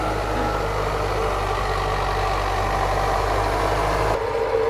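A red tractor engine runs while working a field on its first pass, giving a loud, continuous, close diesel drone with a steady low rumble.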